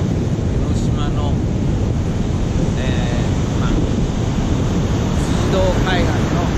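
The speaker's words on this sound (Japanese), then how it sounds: "水道海岸の波をご覧ください。" Ocean waves roll in at Tsujido beach, a constant heavy wash of surf mixed with wind buffeting the microphone, loud and close, with faint voices in the background.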